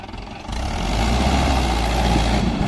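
A Mahindra 585 XP Plus tractor engine, stuck during a gear-power test, rumbles loudly and steadily, building after a short quieter start and holding a heavy, continuous low drone.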